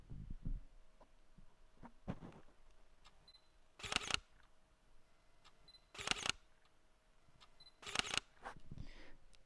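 A Sony A7R2 mirrorless camera fires its electronic front curtain shutter three times, each a short, crisp mechanical click spaced about two seconds apart against a quiet room hum.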